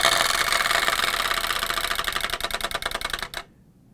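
A chattering teeth toy makes a rapid mechanical chattering clack for about three seconds, speeding into a buzzy rattle before stopping abruptly.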